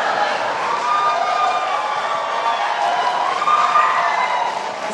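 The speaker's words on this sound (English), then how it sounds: "Please do not applaud." A studio audience at a televised 2016 presidential debate gives a loud, sustained burst of applause and cheering, with dense crowd noise filling the whole stretch and voices mixed in.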